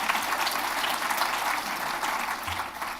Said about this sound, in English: You can applaud her.